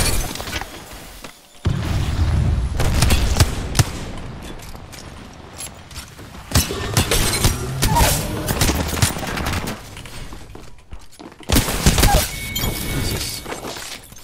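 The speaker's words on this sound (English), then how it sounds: "Dude, these guys have so many nades." Rapid gunfire and grenade blasts in a video game, dense bursts of shots and booms coming in loud waves with brief quiet gaps, close and chaotic.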